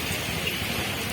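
Steady, even rain hiss filling the whole short stretch, a uniform broadband wash with no distinct drops or voices.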